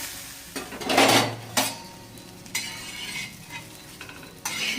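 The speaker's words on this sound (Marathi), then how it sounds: "सोयाबीनला असं सारखं हलवत राहायचं नाहीतर जळतात ते मस्त लाल करून घेऊ आपण" A spoon scrapes and stirs soybeans roasting in a hot pan, with loud scraping bursts over a steady sizzle and clinks of metal against the pan.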